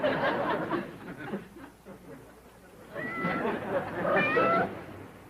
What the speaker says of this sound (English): you ain't exactly the kind of kitty cat I was hoping for